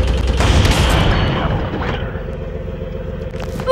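Heavy turret gunfire in a fighter-jet battle royale video game, a dense loud burst of booming shots for the first two seconds that thins out toward the end.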